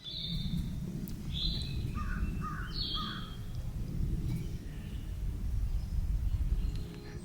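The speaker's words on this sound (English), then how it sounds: "just the sound of the birds, the wind" Outdoor birds calling along the Blue Ridge Parkway in early morning, several short bright calls repeating in the first few seconds over a steady low rumble of wind.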